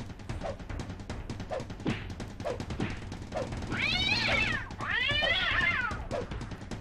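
A cat meows repeatedly in a Resident Evil survival-horror game on PlayStation, first short mews and then two longer, drawn-out wailing meows, all heard over steady low game ambience.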